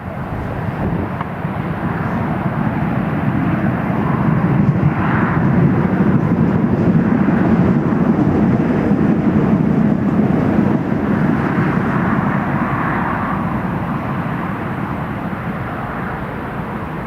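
An Italian Air Force C-27J twin-turboprop landing at Newcastle International Airport, a steady, loud engine roar holding throughout with a broad low rumble and a faint rising whine, swelling slightly in the middle.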